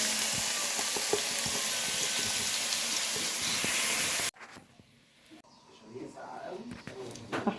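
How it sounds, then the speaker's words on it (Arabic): Two onions frying in a pan for okra and meat, a loud steady sizzling hiss close up that cuts off abruptly, followed by quieter kitchen sounds. "دول حبايتين بصل هنحمرهم."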